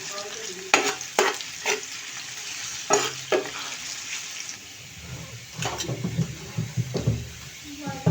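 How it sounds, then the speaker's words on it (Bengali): Spices are dropped into hot oil to temper dal. Sharp sizzling bursts and stirring clatter come in irregular spurts, and a voice talks softly in the later part. "আমি বাগার দিয়ে দিব ডালটা"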